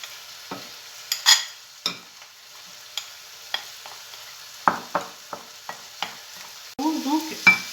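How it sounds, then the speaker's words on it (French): Cake batter containing flour, yeast and apples is stirred in a bowl, giving a series of separate scraping and tapping strokes at an uneven rhythm, close and clear, with a few quick squishy swishes toward the end. "Et on va bien remuer."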